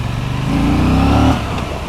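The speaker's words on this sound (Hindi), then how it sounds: "तो मैं ट्राई करता हूँ टेस्ट करने का बाइक की पिकअप एंड ऑल" An Aprilia RS 457 motorcycle with a 457cc engine is throttled hard on a lightly congested road, its engine note rising in a loud, close surge before easing off.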